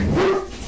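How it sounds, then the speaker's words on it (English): A pet dog lets out a short, loud, high-pitched scream-like bark with a sustained whining tone, close by and alone, fading quickly afterward. "She doesn't just bark, she screams."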